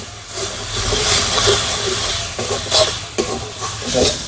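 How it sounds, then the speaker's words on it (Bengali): Spice paste with bay leaves frying in a pan for a prawn and ash gourd curry, giving a steady loud sizzling hiss with brief stirring scrapes, no talk. "মশলাটাকে ভালোভাবে কষিয়ে নেব।"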